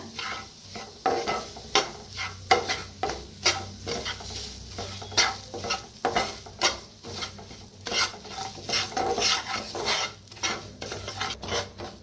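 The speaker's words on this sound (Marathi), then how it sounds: "बेसन पीठ घेतलेला आहे तर भाजून घ्यायचा" Besan flour being roasted in a pan, a steady scraping stir with rhythmic strokes and a faint sizzle underneath, close and continuous with no talking.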